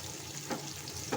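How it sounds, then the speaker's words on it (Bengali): Prawns frying in oil in a pan give off a steady, quiet sizzle, with two short louder bursts of crackle and spatter rising out of the hiss. "হয়ে গেছে আমার চিংড়ি মাছগুলো ভাজা।"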